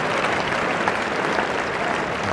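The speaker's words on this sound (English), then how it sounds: "very warm applause from the crowd." A cricket crowd at the 1989 England versus Australia first Test applauds Alan Border's half century with warm, dense, steady clapping from a large audience, with no one speaking.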